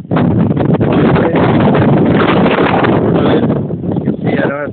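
Strong wind blows over typhoon-damaged rice fields in Japan, buffeting loudly and continuously in heavy gusts that roar against the microphone, with little let-up.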